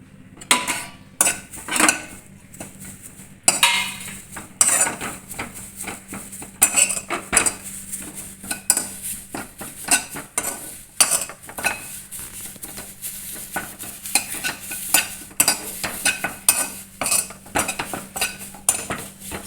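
Drumstick leaves are stir-fried in a metal pan for chutney, with busy, irregular clinks and scrapes of a spatula against the pan, steady and close throughout, over a faint low hum and no speech.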